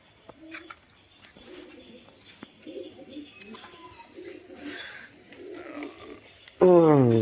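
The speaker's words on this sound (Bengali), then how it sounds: "এই ঘরের ভেতরে পায়রা আছে" Soft, repeated pigeon coos close by, low and rhythmic, ending in a sudden loud burst of noise.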